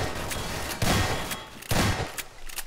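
Gunfire inside Garry's Mod, with two loud, broadband bursts of shots about a second apart, separated by quieter crackling game noise and no talking.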